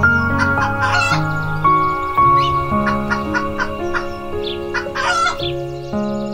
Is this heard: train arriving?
no